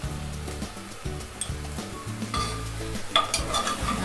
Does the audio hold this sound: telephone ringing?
no